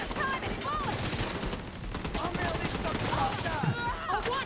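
Rapid gunfire from a first-person shooter game, dense bursts of shots and automatic weapon fire rattling continuously with chirping effects layered in, loud and unbroken throughout.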